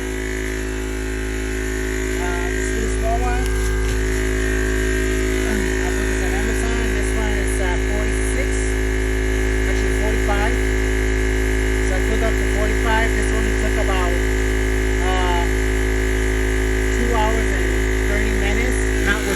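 Small air compressor with an upgraded cooling system running continuously, a loud steady hum with strong low tones and a faint mechanical whine, while a voice talks intermittently over it.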